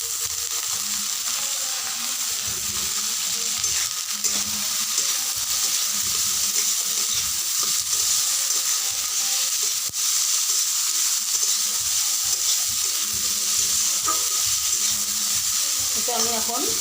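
Carrots frying in a pan after being added to lightly fried egg, a steady broadband sizzle with occasional stirring scrapes, moderately loud and continuous with no talking.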